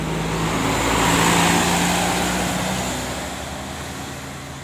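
A heavy tronton truck passes on a road, a loud broad rumble swelling then fading over a few seconds with a low engine drone, no voices.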